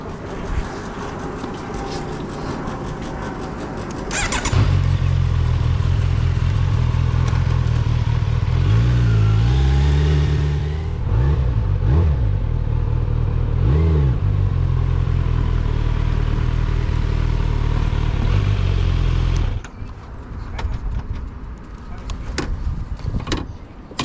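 A 2025 Kawasaki Z900 ABS motorcycle riding on the road, with a loud steady engine drone that swells with several revs and gear changes, then drops away near the end, under constant wind noise.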